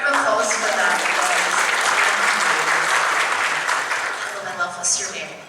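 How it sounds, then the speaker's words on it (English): Audience applause fills a fan expo Q&A panel hall in Dallas, a dense sustained clatter of many hands that holds steady for several seconds before gradually thinning out near the end. "A round of applause for that."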